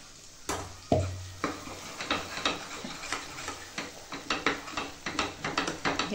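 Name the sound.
masala frying in pan for mutton curry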